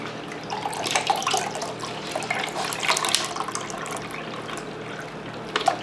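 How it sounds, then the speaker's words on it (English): Chicken stock pours steadily into an Instant Pot, a continuous close splashing and trickling of liquid for several seconds, with no voices. "Now we're going to add our chicken stock on top of that."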